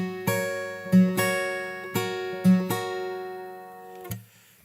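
Fingerstyle acoustic guitar plays a bar of a song: about seven clear plucked notes and chord strikes in an uneven rhythm, each ringing on and fading, close and alone, with the last note decaying into quiet.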